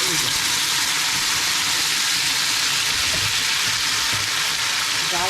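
Hot tempering poured into payesh, a sweet rice pudding, sizzles steadily like a dal baghar, a broad hissing fry running throughout with faint stirring underneath.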